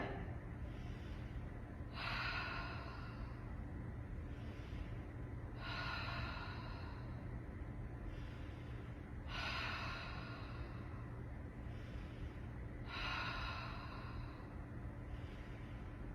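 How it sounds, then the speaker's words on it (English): Slow, deep yoga breaths during a gentle stretching class, four long airy exhales spaced evenly several seconds apart over a quiet steady background hum. "Breathing here, inhale and exhale."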